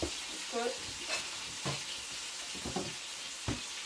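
Peppers and tomatoes drop into a hot frying pan of sautéed pork with vegetables and sizzle steadily. A utensil scrapes and stirs in irregular strokes, close and fairly loud, with a voice faintly present.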